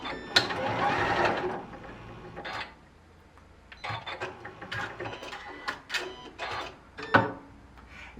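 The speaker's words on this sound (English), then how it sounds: "That kerchunk, that is a completely acceptable and expected sound. What that is are actually your feed dogs dropping." A Janome Continental M6 sewing machine gives a loud mechanical run at the start, then a pause, followed by several sharp clunks and clicks as its feed dogs drop, the kerchunk standing out near the end, close by.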